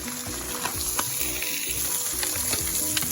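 Burger patties topped with melting Havarti cheese, seasoned with Indian spice and peppers, sizzle and crackle steadily in a hot pan, a continuous close frying hiss with small pops throughout.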